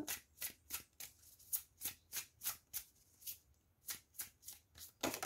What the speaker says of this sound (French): Allez, on tire une autre carte.